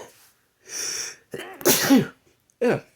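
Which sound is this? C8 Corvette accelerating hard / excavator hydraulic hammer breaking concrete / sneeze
sneeze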